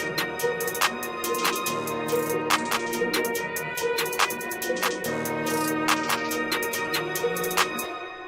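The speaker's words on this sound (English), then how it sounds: "To that I added a counter snare for more rhythm." A produced trap-style beat with a counter snare layered in, sharp snare hits scattered in a syncopated pattern over sustained melodic tones and hi-hats, steady and fairly loud throughout.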